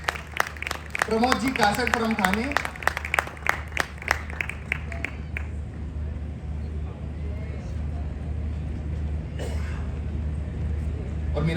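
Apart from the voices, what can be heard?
audience applause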